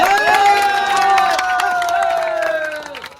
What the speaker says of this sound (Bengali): দুজনের জন্য সবাই একটা হাত তালি